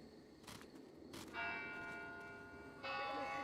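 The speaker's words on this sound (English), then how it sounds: "I'm gonna ring the bell." A video game bell strikes twice in quick succession, then rings out with a long sustained tone, struck again near the end; clean and synthetic-sounding, no talk.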